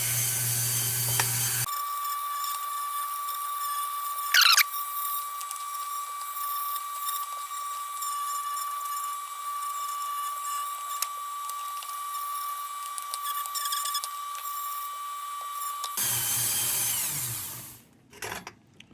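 A drill spins a fresh wire wheel against an Embury No. 50 Little Supreme lantern to strip paint and primer. It gives a steady, high whining grind for about fourteen seconds, then winds down.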